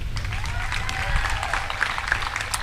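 Applause for a reverend giving the keynote at a high school senior graduation, a mix of clapping and crowd murmur with some talk and background noise beneath it.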